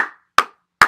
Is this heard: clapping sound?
yes